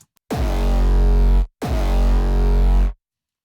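Two long, heavy distorted 808 bass notes from a track, widened by a stereo spatial enhancer above roughly 300 Hz, each sustained over a second with a short gap between, loud and alone.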